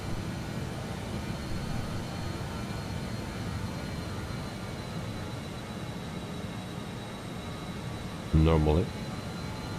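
Simulated airliner engines drone as a steady, fairly faint broadband hum with a low rumble through a flight from Odense, Denmark to Piešťany, Slovakia in Microsoft Flight Simulator 2020, while a voice briefly speaks over the noise near the end.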